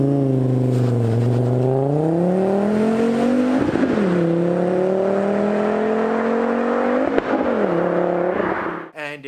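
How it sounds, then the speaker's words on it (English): A Volvo car engine howls and screams as it drives past, loud and close, its pitch climbing through gear changes with brief dips between shifts before cutting off abruptly at the end. "you hear this howl and this scream, and this car is coming at you"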